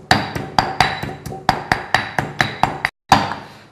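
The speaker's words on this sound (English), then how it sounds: "Okay, so now we're going to pound our paste." A pestle pounds Thai paste of salt and coriander roots in a mortar, about a dozen sharp, loud, evenly spaced thuds with one brief pause near the end.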